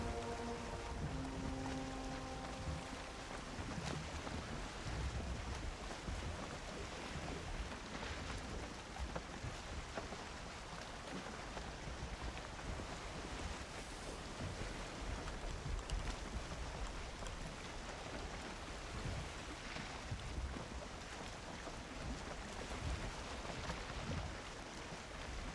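Steady, soft wash of water and wind as a boat sails in the Valheim survival game, a constant low rushing hiss with no clear breaks and no talk.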